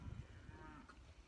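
Cattle moo in a low, faint, drawn-out call that sounds distant and sits under a steady background rumble.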